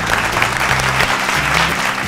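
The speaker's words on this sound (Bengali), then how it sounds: "হাততালি একটা দুজনের জন্য" Studio audience at a family game show breaks into loud, continuous applause, dense clapping that holds steady throughout with no break.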